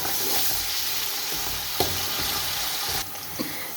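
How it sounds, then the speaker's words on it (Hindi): Sliced onions fry lightly with whole spices in a hot pan, a dense, steady sizzle close by with a few soft scraping stirs and no voices. "अब इसके अंदर डाल देते हैं प्याज। प्याज को बस हमने हल्का सा फ्राई करना है, कलर नहीं देना इसे।"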